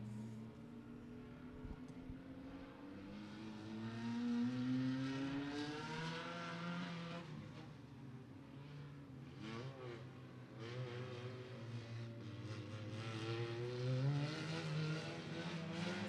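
Legend race cars roll out at Beckley Motor Speedway for compact-class hot laps, their engines droning and rising in pitch as they pass at a distance, several motors overlapping in a continuous rumble.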